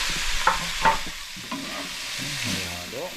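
Stirring adobong banana blossom in a frying pan, a soft scraping and sizzling that continues under a person's voice.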